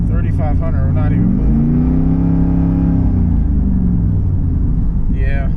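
Third-generation Camaro with a failing, slipping transmission, its engine rumbling and revving up then easing off while the car barely moves, close and loud, with brief speech at the start and end.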